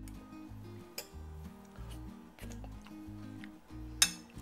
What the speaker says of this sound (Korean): 자, 이제 섞어주겠습니다